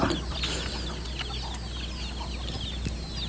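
Native country chickens cluck softly and steadily nearby, with a few bird chirps and one sharp knock partway through, all against a constant low outdoor hum.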